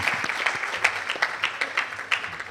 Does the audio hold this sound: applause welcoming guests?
yes